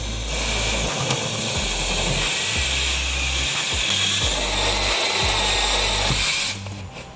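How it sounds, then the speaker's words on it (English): A power drill bores a hole through a wooden sill plate while a Gen 3 Tesla wall charger is being installed, running loud and continuous with low pulsing motor load before cutting off at the end. "All right, we got our hole drilled here"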